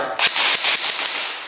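An Airsoft GI Desert Assault RRW airsoft rifle fitted with a PWS buffer tube fires BBs in semi-auto, a quick series of sharp, close snapping shots spaced a fraction of a second apart with no talking.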